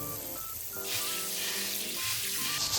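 Water sprays steadily over cooked red beans draining in a sieve, a continuous hiss lasting most of the moment, with soft background music throughout.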